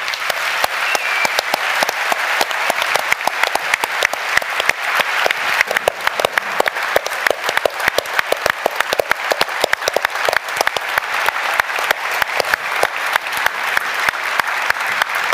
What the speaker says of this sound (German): Und der Applaus, liebe Lissi, der ist jetzt da oben ganz für dich